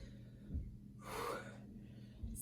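One forceful, breathy exhale during a towel strength workout, heard close up and alone between quiet pauses.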